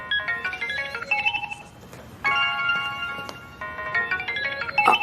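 A mobile phone rings with a bright electronic melodic ringtone playing continuously for several seconds, loud and near, with no speech over it.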